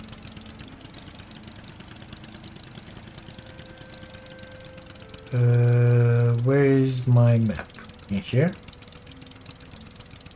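A boat engine idles in the survival video game Stranded Deep, a steady low hum running throughout, with someone talking loudly over it in the second half.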